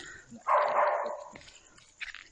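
A puppy in an old, disused warehouse lets out a single sharp, strained bark or yelp, followed by a faint shorter yip, fairly close in an otherwise quiet space.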